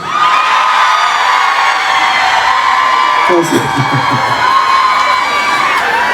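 A large audience at an outdoor insect festival concert in Yecheon roars and cheers continuously, loud and dense, with a brief deeper shout breaking through partway.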